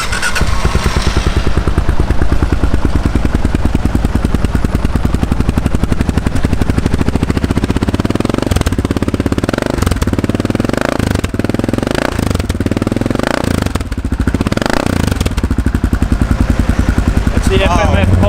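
A 2016 Kawasaki KLR 650 motorcycle fitted with an FMF exhaust pipe starts up and settles into a loud, rough, pulsing idle with throttle blips, close to the listener and running throughout.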